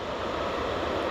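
An EasyJet airliner landing at Newcastle airport gives a steady, broad roar of engine and air noise, constant in level throughout the brief moment with no voices over it.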